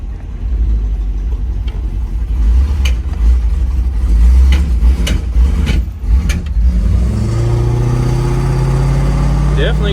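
A 1965 Impala engine with some hesitation on the gas, revving up while driving. A low rumble runs under road noise and several knocks, then the engine note climbs steadily toward the end.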